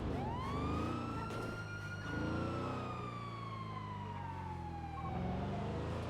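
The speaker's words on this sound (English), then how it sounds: "They left my sirens on the back of it, so we should hear it at some point." A police car siren in the video game GTA V (NoPixel roleplay) wails steadily, rising and falling in long sweeping tones alongside a vehicle engine, loud and continuous without talk.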